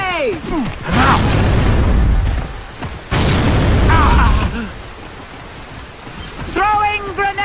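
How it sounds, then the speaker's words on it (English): Video game grenade explosions, two heavy booming blasts with rumbling tails, separated by shouted voices, and a further burst near the end. "Incoming grenade!"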